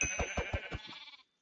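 A single sheep bleat from a Web3 Minecraft-style video game, a loud, close, wavering call with rapid pulsing that lasts about a second and cuts off cleanly, with no talk over it.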